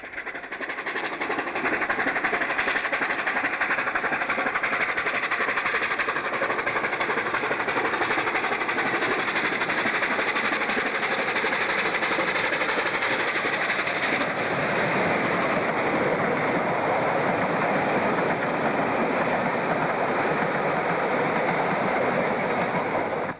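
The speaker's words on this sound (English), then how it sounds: "Let's follow JJ and his Superpower 484 south as they pass Modder River" A steam locomotive hauls a train past steadily and loudly for the whole stretch, a continuous rushing roar with rhythmic clatter of wheels on rails.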